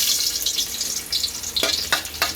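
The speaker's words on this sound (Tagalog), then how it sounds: "Igisa muna natin yung bawang." Garlic sautéing in a hot pan as the base for Filipino ginisang munggo, a steady close sizzle broken by a few sharp scraping stirs near the end.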